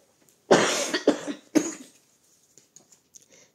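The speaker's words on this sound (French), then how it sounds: "je tousse un petit peu" Three harsh coughs in quick succession, close and loud, followed by faint rustling and quiet clicks.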